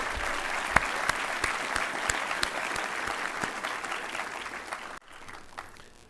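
Applause from a graduation audience, a sustained crowd of clapping with a few sharp individual claps, fairly distant, cutting off abruptly near the end into a quieter patter.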